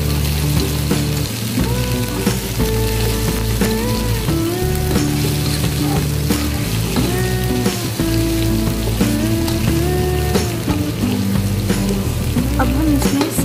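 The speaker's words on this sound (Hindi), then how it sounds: "अब हम इसमें अदरक और लहसुन का पेस्ट शामिल कर देंगे और इसे 1 मिनट के लिए अच्छी तरह भून लेंगे" Chicken pieces frying with ginger-garlic paste for chicken pulao, a loud, steady sizzle with crackling and popping throughout, over background music with tonal melodic lines.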